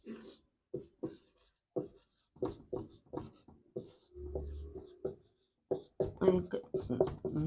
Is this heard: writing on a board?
yes